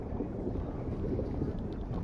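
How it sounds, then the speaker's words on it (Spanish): A motorboat in PUBG runs with a steady, low engine drone and a rushing wash of water and wind, fairly quiet and continuous, with no voices. "La lancha, la lancha, la lancha, la lancha."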